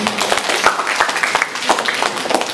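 A seminar audience on the 2013 curriculum breaks into applause: a steady, dense crowd of hands clapping together, loud and continuous, with little talk over it.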